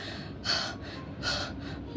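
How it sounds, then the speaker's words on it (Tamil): A person panting out of breath, two heavy breathy gasps about three-quarters of a second apart, close and alone. "மூச்சு வாங்குது."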